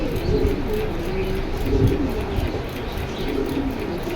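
Pigeons coo in low, repeated rolling calls at a bird market stall at Jinjira Bazar, steady and close against a busy background.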